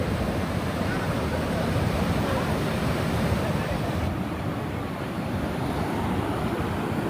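Steady ocean surf washing over Pacific tide pools at low tide, a continuous broadband roar with some wind noise on the microphone, no talking.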